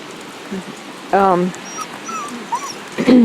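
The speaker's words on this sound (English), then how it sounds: "The dogs survived." Dogs after a flood give brief high whimpers and a louder drawn-out whine, with a few faint yips scattered between them at close range.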